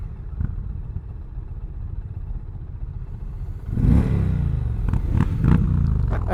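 A 2020 Indian Challenger motorcycle on a Veteran's Day demo ride idles with a low rumble, then revs up loudly around the midpoint, with a few sharp throttle blips following.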